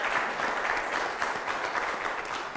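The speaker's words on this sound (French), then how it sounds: "Et ça s'applaudit." An audience claps steadily and fairly loudly for a few seconds, a dense burst of applause with no voices over it.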